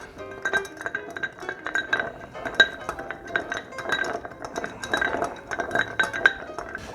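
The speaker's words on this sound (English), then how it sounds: "We're gonna give that a stir." Ice cubes clink and rattle steadily against a mixing glass as a spoon stirs a maple old fashioned over two large cubes, a close, continuous run of bright glassy taps with no talking.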